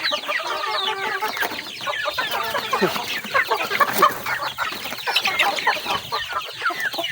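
Chicks and chickens in a coop cluck and cheep constantly, with many overlapping close calls and busy peeping and no voices over them.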